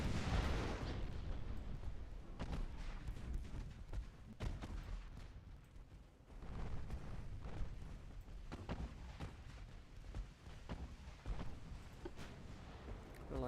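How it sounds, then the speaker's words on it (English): Naval guns firing at a light cruiser in a video game battle, with repeated booming blasts and rumbling explosions in irregular bursts over a dense, moderately loud roar of combat. "Turn our guns to the light cruiser."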